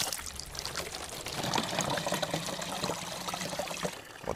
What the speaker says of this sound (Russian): Вот такая вот, ребята, у нас чистая в тайге вода бежит. Артезианская.